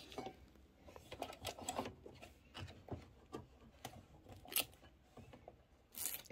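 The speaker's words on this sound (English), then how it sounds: "Okay, let's remove the tape." Tape is peeled and rubbed off a leather sewing project, making faint, scattered crackles, scrapes and snips in short irregular bursts with pauses between them.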